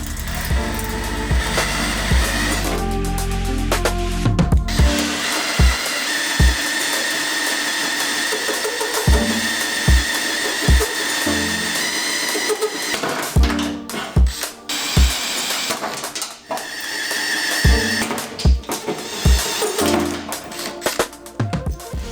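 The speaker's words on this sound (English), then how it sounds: "now I have to open these 4 holes up to 16mm using my 16mm hole saw" A 16mm hole saw drilling holes with cutting fluid during a Safari snorkel install on a 60 Series vehicle, a steady loud whirring grind broken by repeated sharp knocks and brief pauses as the saw bites and restarts.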